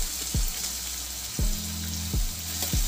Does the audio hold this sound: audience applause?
no